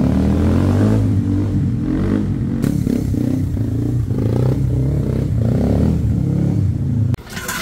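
A Kawasaki KLX 140 RF dirt motorcycle idles and revs close by, its low throbbing engine rising and falling unevenly, with some clattering and an abrupt change just before the end.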